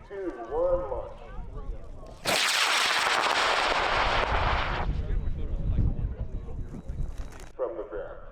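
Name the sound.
high power rocket launch on H100 motor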